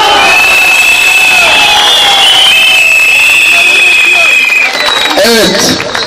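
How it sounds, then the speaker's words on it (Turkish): A large crowd at an outdoor political election rally in Erzurum cheers and shouts loudly, with whistles and voices rising in a continuous roar that thins slightly near the end. "biz böyle bizi coşkuyla karşıladığınız, alkışladığınız için sizlere çok teşekkür ediyoruz"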